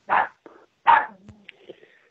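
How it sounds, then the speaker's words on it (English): A dog barks twice over a phone line during a live radio call-in show, sharp and close, followed by fainter yips and whimpering. "Who's got the dogs, Bob?"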